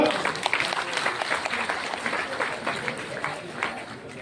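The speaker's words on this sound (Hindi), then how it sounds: "जोरदार तालियां" Loud applause from attendees at a district-level party workers' conference in a town hall in Munger, thick crowd clapping that starts strongly and keeps a steady, slightly pulsing intensity throughout.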